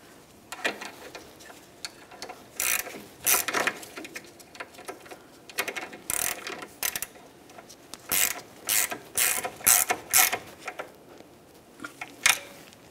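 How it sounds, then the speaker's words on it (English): Ratchet tightening the mounting nut on a rear sway bar link of a Ford Flex, heard as close, irregular bursts of clicking pawl strokes with short pauses between them, no talking. "Now we can tighten our mounting nut."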